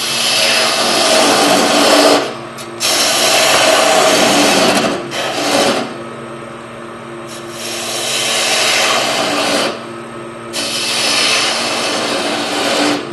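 A gouge cuts a curve on a wood lathe with its bevel rubbing the turning wood, giving close, raspy scraping in several bursts separated by short pauses. No voices are heard.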